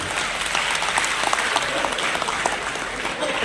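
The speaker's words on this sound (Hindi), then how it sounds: "एक बार आप मेरे लिए ताली बजा दीजिए" An audience claps for a poet at a National Voters' Day celebration, a dense, steady burst of applause that carries loud and unbroken from start to finish.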